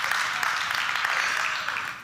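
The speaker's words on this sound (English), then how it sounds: "Now you can clap." Steady applause from an audience at a business school presentation, a dense continuous patter of clapping that holds for about two seconds and then begins to fade.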